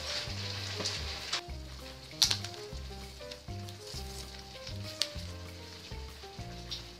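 Lobster and fish sizzle in a hot pan, a steady frying hiss at close range with a few sharp crackles and pops, while soft background music plays underneath.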